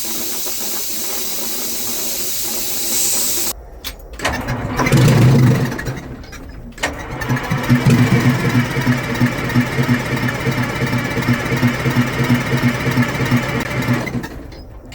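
A stubborn Detroit Diesel engine cranks after a quiet stretch, coughs loudly, then catches and keeps running with a steady, close, rough drone for several seconds.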